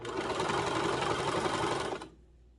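A sewing machine runs steadily at close range while stitching a rolled hem on a home-sewn shirt, a continuous dense whir lasting about two seconds before it stops abruptly.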